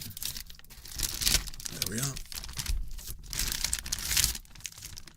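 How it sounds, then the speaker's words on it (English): A small plastic bag crinkles and rustles as a raw steak is placed inside it for sous-vide cooking, the crackling swelling and fading in close, crisp bursts while someone speaks softly over it. "into this little plastic bag here."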